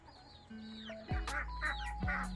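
A young rooster leading a chicken flock crows loudly and close, several rising calls with clucking around it in a backyard coop; a bell hangs from the rooster's neck.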